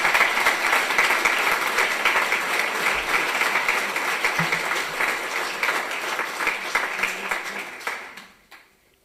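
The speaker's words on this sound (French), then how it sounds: "Je vous demande néanmoins de l'applaudir." An audience at an academy's formal reception of new members applauds, steady dense clapping from a large hall that holds evenly, then quickly fades out at the very end.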